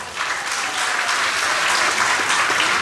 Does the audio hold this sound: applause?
yes